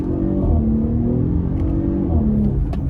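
A 2023 Audi SQ5 with all-wheel drive accelerates hard from a standstill. Its engine note is loud and close, a steady droning roar that holds and climbs slightly across a few seconds.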